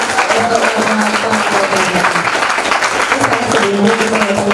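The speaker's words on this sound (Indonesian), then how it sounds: "Luar biasa, tepuk tangan dong buat orang" An audience breaks into loud, dense applause at a televised talk show about depression, steady sustained clapping from a full crowd filling the whole stretch.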